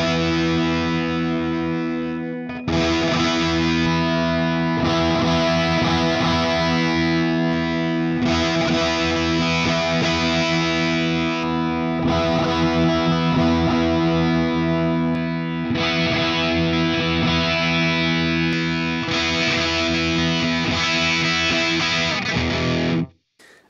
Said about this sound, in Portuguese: conforme eu vou alterando esse Impulse Response, repara o quanto que muda o som.